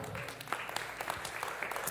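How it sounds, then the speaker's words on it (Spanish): A church congregation gives a brief, scattered round of applause during a pastor's sermon, soft distant claps over a low roomy background. "Dele un aplauso a Brian, por favor."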